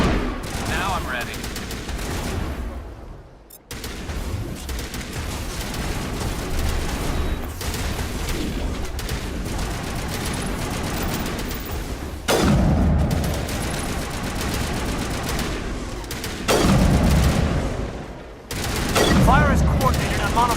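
Sustained Mass Effect Legendary Edition gunfire rattles almost without pause, loud rapid bursts from rifles and turrets across a long firefight, broken by brief drops in level while squad voices talk over it.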